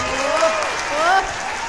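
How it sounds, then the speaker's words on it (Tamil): Large audience applauding at an awards event for a rising actor, a steady wash of clapping with a voice carrying over it throughout. "இவ்வளோ பேர் கைத்தட்டல்,"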